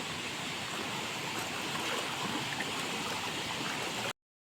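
A river in the Konkan flowing below, a steady broadband rush of water heard from a distance, continuous and fairly faint until it cuts off abruptly.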